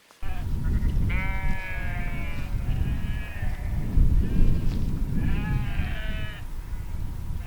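Several sheep on a mountainside bleat repeatedly in wavering cries, some close and some farther off, over a steady rush of wind.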